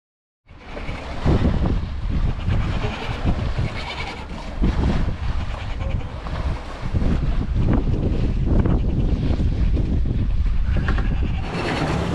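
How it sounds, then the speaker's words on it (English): Strong wind roars across the microphone aboard a junk-rigged sailboat at sea, a loud continuous buffeting rush with gusting swells and water noise, close and unbroken. "We've got this wind coming in"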